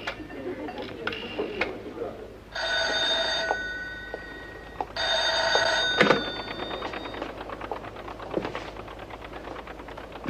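An old-fashioned telephone bell rings in two long bursts in a classic spy-action film, clear and fairly loud, with rustling, clicks and other room noises between the rings.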